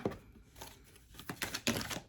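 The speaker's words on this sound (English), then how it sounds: "So I want to get my cards shuffled." Quick crisp riffling bursts of tarot cards being shuffled, several short shuffles with brief pauses, close and fairly quiet.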